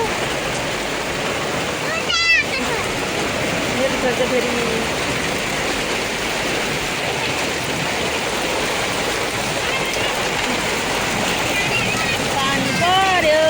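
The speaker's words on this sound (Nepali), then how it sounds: "ओ माय गॉड आयो असिना आयो" Hail and rain fall steadily in a dense, continuous wash of patter and splashing outdoors, and people talk and exclaim over the downpour.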